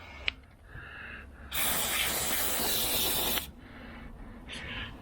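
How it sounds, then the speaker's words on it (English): An aerosol can sprays rust-proofing into a hole in a rusty pickup truck's body cavity, giving one loud, steady hiss of about two seconds that starts and stops abruptly, with faint clicks and quieter sounds before and after. "And we'll spray in this hole here."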